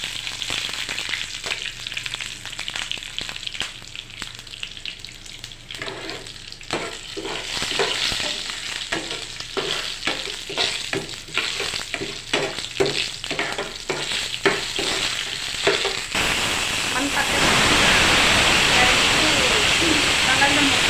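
Mustard seeds, curry leaves and chilies frying in hot oil, crackling pops and sizzle with stirring that swell into a loud continuous hiss near the end, close and clear with no talk.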